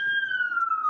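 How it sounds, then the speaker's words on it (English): A police siren on a New York City street wails in one steady, slowly falling tone, loud and clear for the full second with only faint street noise beneath. "I usually dance to the sirens."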